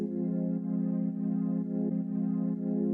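A sustained synth pad built from Ableton's Mindfulness preset, playing alone as a steady, warm chord with a slow gentle pulse and no other instruments or voices.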